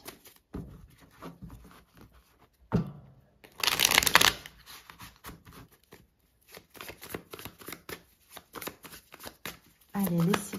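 Tarot cards are shuffled by hand in quick papery riffles and flicks, close and crisp, with one louder burst of riffling and a voice speaking between.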